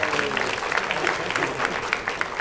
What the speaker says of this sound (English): So give these guys a round of applause for that